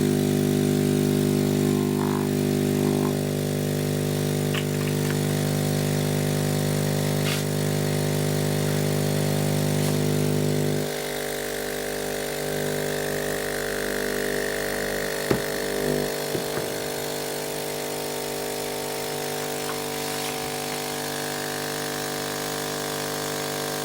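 A Hailea ACO 318 45-watt air assist pump for a laser runs with a long piece of garden hose attached, a steady close humming drone with a strong low buzz that drops somewhat about halfway and continues evenly, with no speech.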